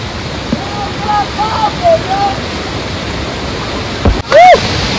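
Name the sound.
waterfall in heavy rain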